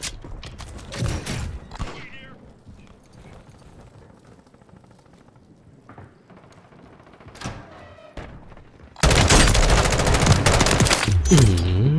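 M16 rifle fire in Call of Duty Warzone, bursts of rapid loud shots early on, scattered single shots in between, then a long sustained dense barrage at the end.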